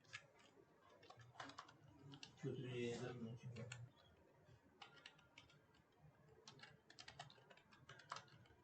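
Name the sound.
typing on a computer keyboard, pressing the Tab key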